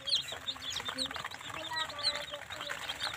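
Native chickens and chicks cluck and peep continuously at a poultry seller's yard, a dense chorus of high chirps and clucks throughout with a voice talking underneath.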